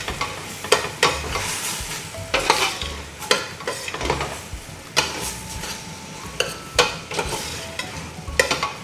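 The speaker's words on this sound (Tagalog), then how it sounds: "Haluin rin natin" Sautéed ampalaya is stirred in a frying pan over a constant sizzle, with repeated spatula scrapes and knocks against the metal roughly every second; loud and close, with no talking.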